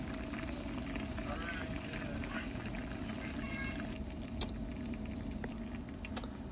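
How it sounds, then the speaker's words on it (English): Watermelon rind preserves bubble at a gentle boil in a pot, a steady soft churning hiss with a couple of faint clicks, no voices. "this is a little harder boil that I want, so I've turned my heat down, and I just kind of want a gentle boil"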